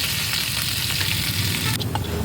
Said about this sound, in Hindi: यहाँ पे मैं जीरे को धुल के छौंक लगा रही हूँ